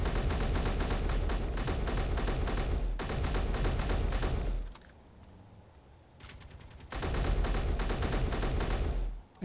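Rapid automatic gunfire hammers at a ship in the space-building game Space Engineers, loud sustained bursts broken by a brief quieter gap with scattered shots before the heavy fire resumes.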